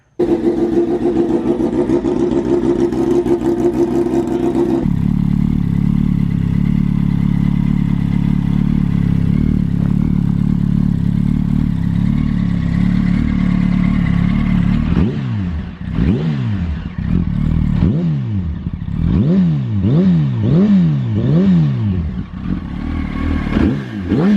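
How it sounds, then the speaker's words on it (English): A 2007 Yamaha R1 sport motorcycle idles with a steady exhaust rumble, then revs repeatedly in sharp, rising bursts, loud and close. "let's do a little bit of a before and after sound here on the exhaust."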